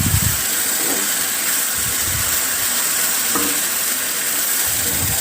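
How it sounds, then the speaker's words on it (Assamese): Water spinach greens fry in a pan with a steady, loud hiss and sizzle, and occasional stirring scrapes break through close by. "এইখিনি এতিয়া মই 3 মিনিটমান ভাজি ল'ম।"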